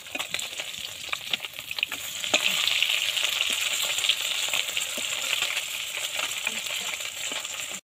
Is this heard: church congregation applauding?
no